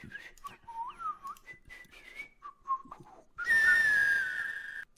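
A character whistles in the Quest for Glory IV adventure game, a short wavering melodic tune of separate notes, followed by a sustained brighter whistled tone near the end.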